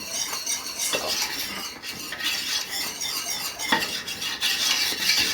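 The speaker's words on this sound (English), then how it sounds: "we're trying to stir this in as best we can so that we don't have a lot of lumps" Flour is stirred into melted butter for a batch of cheese sauce, with continuous scraping and swishing of a utensil against the pot and occasional light clinks.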